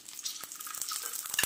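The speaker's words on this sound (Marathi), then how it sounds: "लसण फ्राय होतो आहे" Garlic frying in hot oil with masala in a pan, giving a steady close sizzle with light crackles and a few stirring scrapes, and no talk.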